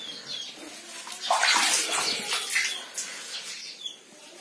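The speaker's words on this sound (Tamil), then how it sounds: "இந்த மாதிரி சேரும் சகதியுமே தண்ணி வருது." Muddy water gushes from a village panchayat supply tap in Palani, a steady splashing flow that swells midway, with faint birdsong behind it.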